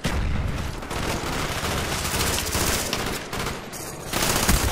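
Sustained bursts of rapid automatic fire from a MAC-11 submachine gun in Call of Duty: Black Ops, loud and dense with dips between bursts and no talk over it.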